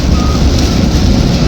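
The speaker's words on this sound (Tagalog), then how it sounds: "lakas na ang ulan na naman, bagyo na naman" Heavy typhoon rain roaring steadily, a thick, constant wash of noise with no break or voices.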